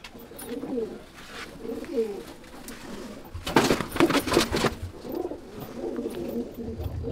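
Pigeons coo in a loft, with soft repeated low calls in short phrases. A burst of flapping or shuffling comes midway, and there is no talk.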